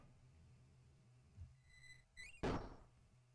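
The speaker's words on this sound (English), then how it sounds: "Here we are through this heavy door." Heavy door pushed open in Old School RuneScape: a soft thunk, then a rising creak and a single loud wooden bang, close and short.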